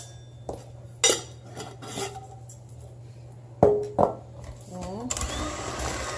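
Salt is mixed into food in a bowl with a utensil. Faint scraping sits under quiet room hum, with a few louder clinks of metal against the bowl and a voice speaking briefly near the end.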